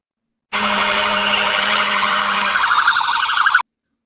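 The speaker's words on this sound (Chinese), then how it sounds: "这个测试视频，也就是消防车，那它也是会拉警笛的" AI-generated fire truck siren wailing loud and steady for about three seconds, with a sustained tone underneath that drops out partway, and high bird-like chirps mixed in.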